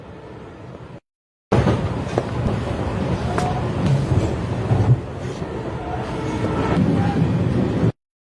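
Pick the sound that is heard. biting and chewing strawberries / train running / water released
train running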